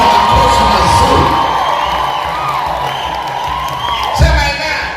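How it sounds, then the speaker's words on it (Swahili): A church congregation at a sermon shouts, cheers and whoops loudly together, a dense crowd roar that tapers slightly before a brief final swell. "piga nduru kuliko jirani yako, piga makofi mazuri"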